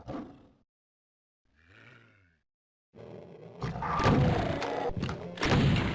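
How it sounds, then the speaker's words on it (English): In the video game DOOM TNT: Evilution, a rocket hits the player, with a short grunt and a low groan before a loud, sustained explosive roar and thudding blast that fills the last three seconds, close and with no talking. "took a rocket to the face"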